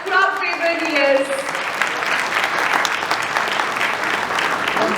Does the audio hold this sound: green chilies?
no